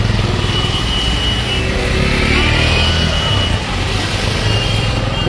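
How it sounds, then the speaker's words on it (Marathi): Traffic on a main road, the 90 Foot Road in Chandivali, Mumbai, a loud continuous rumble of cars and motorbikes with engines revving and passing close by, with a voice faintly mixed in. "या रस्त्यामुळे ही बघा लागली ट्रॅफिक"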